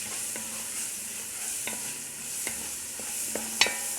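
Chili powder and salt sauteing in a hot pan, with a steady soft sizzle and occasional scrape and clink of a spoon stirring, close and without speech.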